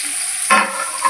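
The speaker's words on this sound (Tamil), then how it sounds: "வெங்காயம் நல்லா வதங்குற வரைக்கும் நல்லா வதக்கி விட்டுக்குங்க" Onions sautéing in a pan for chicken biryani, a soft steady sizzle with a brief louder stir-scrape partway through, heard up close with no voices.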